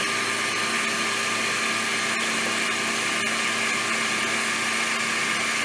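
A milling machine with a fast-spinning carbide end mill cuts metal for a Ford Model R axle part, giving a loud, steady whine and hum with a few faint ticks, continuous and close.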